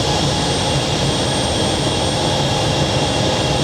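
An Ilyushin Il-96 four-engine jet airliner passes overhead with a loud, steady, broadband jet roar that fills the whole stretch without letup and has no voices over it.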